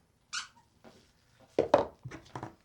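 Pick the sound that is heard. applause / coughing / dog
dog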